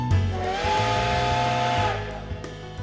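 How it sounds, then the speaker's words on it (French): A steamboat's steam whistle sounds on the river in the Code:Realize video game, a steady tonal blast with breathy hiss that holds for about two seconds before tapering off, with no talk over it. "J'ai entendu de la vapeur provenir de la rivière et j'ai regardé le bateau qui s'approchait."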